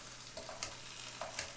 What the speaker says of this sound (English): We're just frying up some vegetables.